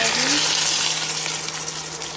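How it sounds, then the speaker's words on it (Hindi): Water poured into a hot pan of crisping pot sticker dumplings sets off a loud, steady hiss and sizzle that fills the whole moment, close and continuous. "ये क्रिस्पी होना शुरू हो गया, अब इसमें मैं पानी ऐड कर दूँगी।"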